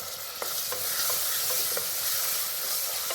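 Onion with ginger garlic paste being sautéed for Tamil-style ghee rice, a steady close sizzle running throughout with light scrapes of a stirring spoon every half second or so, no voices.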